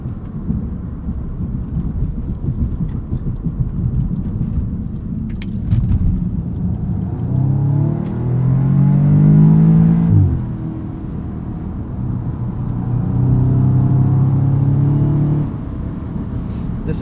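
A 2016 Audi S3 Sedan engine revs up twice while driving on a bumpy road. Each time its rising tone swells above steady road and cabin rumble, then drops back.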